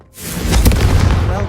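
A loud fiery blast from the Confringo fire spell in the video game Hogwarts Legacy, a sudden deep boom swelling up and rumbling on for over a second.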